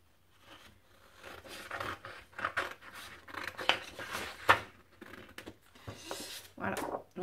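Paper being cut with scissors for a crafting project, irregular close rasping snips in quick bursts, some louder strokes near the end, no talking.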